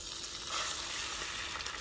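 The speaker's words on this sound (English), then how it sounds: "I'll get the other egg going. Oh, that's a frying up quick." Eggs frying in a hot pan on a camp burner outdoors in the rain, a dense, steady crackling sizzle that is close and continuous, with no voices over it.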